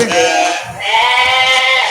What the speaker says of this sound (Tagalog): titimbangin din itong kambing na ito